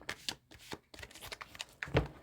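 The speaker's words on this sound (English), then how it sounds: "I'm just going to do a quick little shuffling." Tarot cards shuffled by hand in a few quick riffling bursts, close and fairly quiet, with a heavier slap of the deck near the end and no talking.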